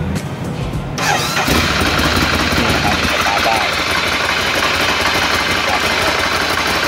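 A Ducati Scrambler motorcycle engine cranks and fires after about a second, then settles into a loud, steady idle close by, with someone talking over it.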